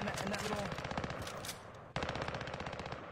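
Rapid automatic gunfire in the Call of Duty Warzone video game, with dense fast shot bursts filling the clip and a brief break before firing resumes, under faint speech.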